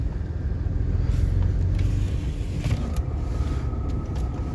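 A 2006 Ram 2500 pickup with a 5.9L diesel and six-speed manual pulls away in second gear, a continuous low engine rumble heard from inside the cab with brief mechanical clunks.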